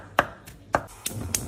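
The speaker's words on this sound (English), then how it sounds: "Onion finely chopped." A knife chops onion and garlic sharply on a cutting board, about four distinct strikes at an uneven pace, close and clear with no talking.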